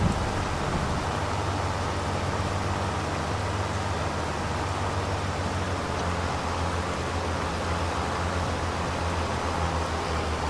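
Steady, dense rain hisses without a break in Farming Simulator 25, a broad, even wash of sound with a faint low rumble beneath and no distinct drops or voices.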